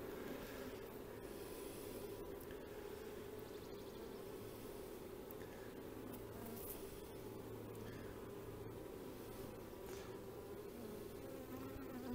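Honeybees buzzing around an opened beehive on a cold, rainy day during queen cell introduction, a steady dense drone close by with a few louder passes of individual bees.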